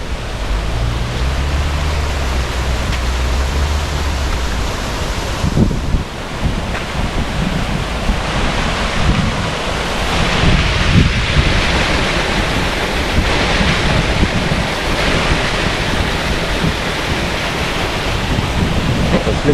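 A river and waterfall flowing in Jamaica, a continuous broad rushing roar of water, loud and steady, with some buffeting wind on the microphone and a low rumble early on.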